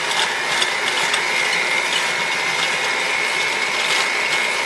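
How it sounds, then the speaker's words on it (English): An electric hand mixer blends chocolate cake batter made with vegetable oil, giving off a loud, steady whirring motor drone that stays even from start to finish with no voices. "I'll grab my mixer. And then I just want to start combining this together."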